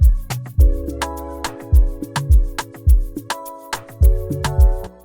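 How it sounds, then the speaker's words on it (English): A bright, frozen-style carving bell sound rings over an afrobeat beat in a Wizkid and Ayra Starr 2 Sugar remake. Punchy low kicks pulse steadily under sharp percussive hits and sustained bell tones, with no voices. "So the next sound I added was a bell sound"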